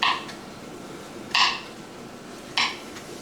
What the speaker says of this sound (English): you're just going to chop this up as finely as possible